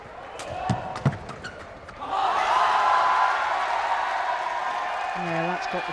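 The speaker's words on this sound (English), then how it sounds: "that's got the crowd going" A badminton crowd at a Thomas Cup team match between Malaysia and India swells into a loud, sustained roar after a few scattered shoe squeaks and shuttle hits, holding steady under a commentator's voice.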